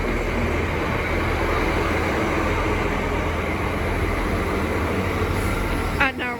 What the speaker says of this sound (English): Now arriving is the 1332 Great Western Railway service from Digcot Parkway to London Paddington